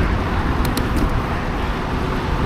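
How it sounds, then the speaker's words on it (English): Heavy road traffic near Interstate 81 in Virginia, with motorcycles and trucks passing by a frontage road: a loud, steady roar that never lets up and has no talking. "loud motorcycles going by and trucks"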